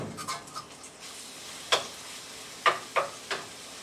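Marinated chicken sizzling in a pan, a soft steady frying hiss broken by scattered sharp pops and crackles at uneven intervals, fairly close and without any talk.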